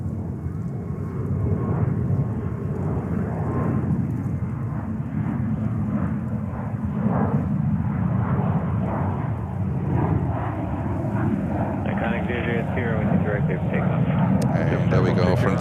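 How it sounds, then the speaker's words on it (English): A Frontier Airbus A321neo bound for Chicago departs JFK runway 22 right, a sustained loud low roar of jet engines rolling steadily throughout, with voices talking over it. "there we go, Frontier 321 Neo to Chicago"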